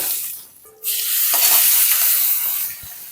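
Asafoetida powder and curry leaves dropped into hot oil for tempering mor kali, a quiet moment then a sudden loud burst of close, bright sizzling that holds steady and eases slightly at the end.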